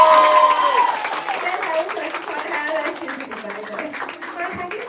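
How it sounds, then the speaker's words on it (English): An audience at a stage performance event applauds and cheers for a performer named Katya: clapping under a noisy crowd with shouting and raised voices, fairly loud and steady throughout. "Why would we just have a huge round of applause to Katya ma'am?"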